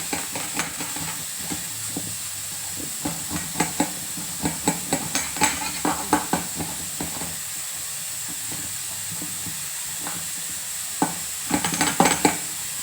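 A ground paste of ginger, garlic, onion and tomato frying in oil with five-spice and dried red chillies in a kadai, giving a steady hiss of sizzling with scattered clicks and scrapes of stirring that cluster in short bursts.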